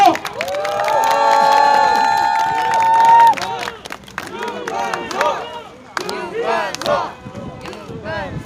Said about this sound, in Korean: 큰 박수와 연호로 맞이해 주시기 바랍니다.